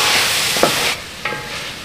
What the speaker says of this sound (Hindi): अब सारे मसाले को भून लेंगे